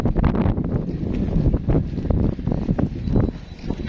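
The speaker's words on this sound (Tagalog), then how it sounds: "malakas ang hangin" Strong wind gusts across the water on a fishing trip in Mykonos, Greece, a loud buffeting roar on the microphone that swells and dips without pause.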